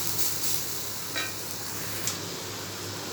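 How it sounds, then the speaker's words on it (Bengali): Garlic sizzles in oil with a steady, moderately quiet hiss and a low hum underneath. A couple of faint pops or scrapes come through, with no voices. "রসুনটা ভাজা ভাজা হয়ে গেছে"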